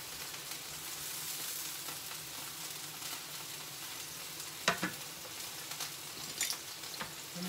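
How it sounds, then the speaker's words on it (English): Sauce for cheese ravioli simmers and thickens in a pan while being stirred, a close, even sizzle with a couple of sharper scraping clatters from the spoon. "Let me stir my sauce again"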